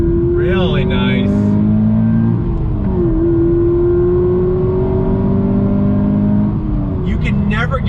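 A stock 2020 Subaru BRZ tS engine-brakes into a left-hand bend, its loud, steady droning note dipping in pitch as it slows and then settling into a sustained hum, with a voice speaking briefly over it.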